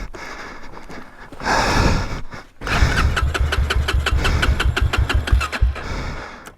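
A motocross bike's engine is kicked over with a few short bursts, then catches and settles into a loud, close, rapid putter of steady idle pulses before cutting out at the end.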